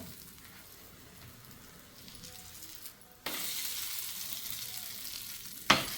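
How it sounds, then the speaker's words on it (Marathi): A corn pancake crisps in a pan over low to medium flame, a quiet sizzle that jumps louder midway when it is flipped, followed by a brief clink near the end. "छान एक साईडने असं मस्त खरपूस करायचे आणि मग उलटून घ्यायचे"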